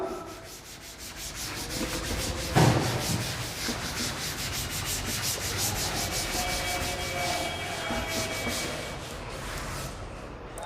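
A board being wiped clean of written equations during a Class 11 maths lecture, a steady scrubbing rub lasting about ten seconds with one sharper knock partway through.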